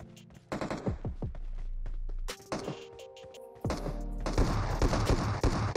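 Rapid automatic gunfire from a video game, with bursts of sharp repeated shots and loud sustained volleys, clear and close, without speech.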